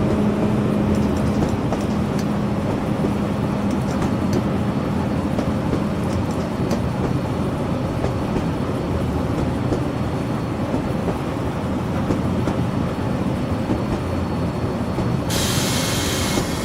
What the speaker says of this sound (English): Why do train wheels make weird noises?